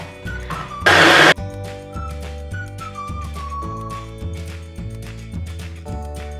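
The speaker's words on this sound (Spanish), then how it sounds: "Y a batirlo." A blender whirs loudly for a short, intense burst while blending vegan strawberry ice cream ingredients with peanut butter, set against steady background music.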